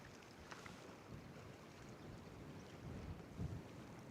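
Wind buffets the microphone beside a lake during fly fishing for wild brown trout at Nant y Moch, making a constant low rumble with a few stronger gusts.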